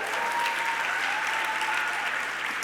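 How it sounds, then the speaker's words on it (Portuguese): A church congregation applauds at a Sunday service, a steady, dense wash of many hands clapping that holds evenly throughout, with no talk over it. "A gente pode dar um aplauso para essa galera."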